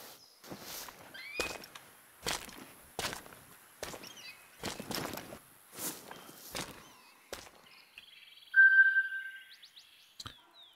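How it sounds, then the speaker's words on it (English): Footsteps crunch across the African savanna in the hunting game theHunter: Call of the Wild, a series of about seven regular, fairly close steps. A brief ding follows near the end. "Because I hear footsteps."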